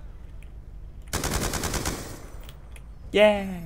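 A short, loud burst of rapid machine gun fire from the Call of Duty: Black Ops II video game rattles for about a second, followed by quiet and then a brief spoken word.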